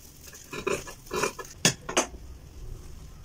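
Scissors snip through blouse fabric in a few short close cuts, quiet crisp clicks and rasps of the blades spaced apart, with no talk.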